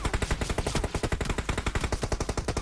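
Rapid automatic gunfire from a PUBG Mobile match, a dense, steady stream of loud shots with no gaps, heard alone without talk.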